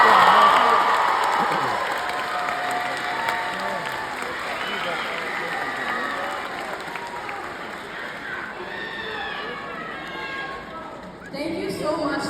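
Applause and cheering from a crowd at a graduation ceremony in New Orleans, loud at first and gradually fading, with a fresh burst of clapping near the end.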